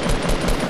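Dense, continuous automatic gunfire from a Fortnite battle royale match, loud and sustained with no gaps, heavy low-end rumble beneath a bright, crackling top.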